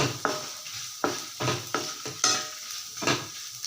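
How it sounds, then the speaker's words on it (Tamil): Dried red chillies sautéed in oil for a ridge gourd peel chutney, stirred in a pan with several distinct scraping strokes over a steady close sizzle. "இந்த எண்ணெயிலேயே காஞ்ச மிளகா அதையும் இந்த எண்ணெயிலேயே வதக்கிக்கலாம்"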